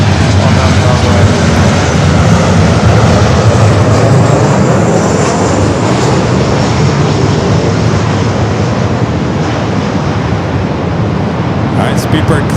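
An airliner takes off from runway 24 left at Los Angeles International Airport, its engine roar loud and steady throughout, a broad rushing wall of noise that holds without a break.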